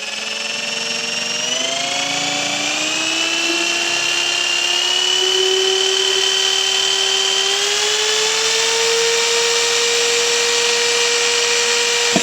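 A Black+Decker HD555K50 550W hammer drill boring holes into wood, its motor a steady high whine that slowly rises in pitch and runs loud and continuous from start to finish with no talk over it.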